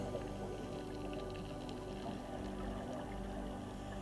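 Underwater ambience with a continuous muffled wash of water and a steady low drone throughout, with no distinct bubble bursts standing out.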